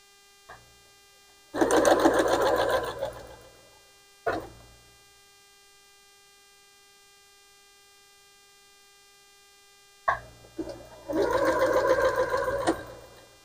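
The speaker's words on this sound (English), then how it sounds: "So let's get this sewn together." A sewing machine joins fabric place mat pieces in two bursts of rapid stitching, each a couple of seconds long, separated by a long silent pause and a few short clicks, over a faint electrical hum.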